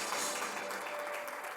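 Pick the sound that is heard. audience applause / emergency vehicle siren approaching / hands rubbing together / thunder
audience applause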